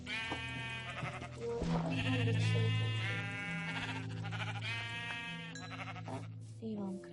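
Sheep in the video game Minecraft bleat in several long wavering calls, loud and close over steady game music and background sound.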